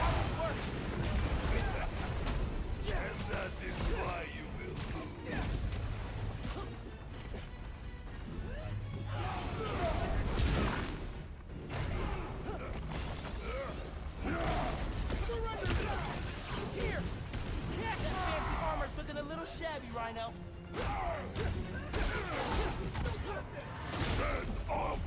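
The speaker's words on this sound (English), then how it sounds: "Tank throwing." A tank is hurled and smashed in Spider-Man: Miles Morales, loud crashing and explosive impacts running through a dense, busy game mix from start to finish.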